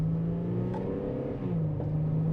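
An Infiniti G37 accelerates in normal drive mode, its engine giving a steady, rising hum with a slight pitch dip partway through, loud and close with no talking.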